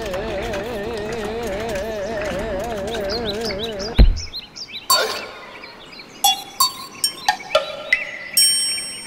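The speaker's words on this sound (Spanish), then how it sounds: "Y los pajaritos, en cuanto sale el sol, vuelven a cantar su canto" Little birds chirp and tweet in short, bright, separate calls that follow a break in a steady warbling tone, the chirps rising in a quick irregular series with some tinkling, fairly close and clear.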